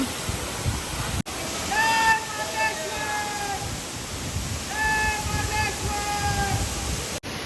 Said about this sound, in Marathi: वॉटरफॉल आहे हा बाराही महिने चालू असतो